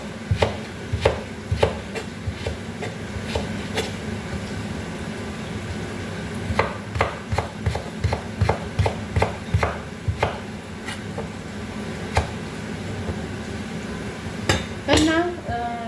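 An onion is cut into thin, long strips on a board, making a run of close, crisp knife chops that come in quick irregular bursts with short pauses, under light talk.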